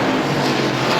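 Race cars roar around the oval at Star Speedway in a dense, loud wall of engine noise from several cars running together, constant throughout with no pauses.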